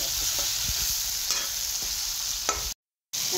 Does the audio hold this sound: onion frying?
yes